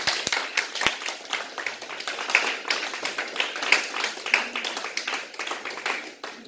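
Congregation clapping rhythmically during a Pentecost worship service, steady hand claps close and continuous throughout, with a faint voice underneath.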